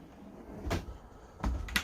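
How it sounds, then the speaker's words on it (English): A large cutlery drawer under the sink in a 2022 Swift Elegance 845 caravan slides and thuds twice, quiet close knocks with a short gap of faint room noise between them. "Underneath your sink you've got a large cutlery drawer"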